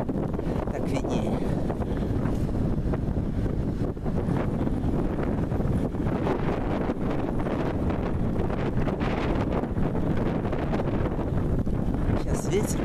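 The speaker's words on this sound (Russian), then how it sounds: "Сейчас ветер в лицо дует." Strong wind buffets the microphone outdoors on a small street on the road from Bex to Aigle, a loud continuous low rumble that holds steady throughout.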